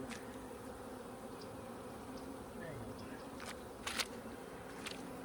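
A steady, dense buzz of many honeybees hovering close by at an opened hive, continuous throughout with a few brief louder passes.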